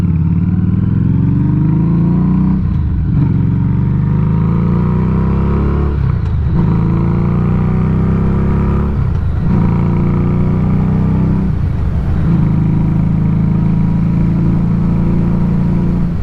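Harley-Davidson Street 500 motorcycle engine droning loudly and steadily while riding to work, with several gear-shift dips and renewed revving throughout.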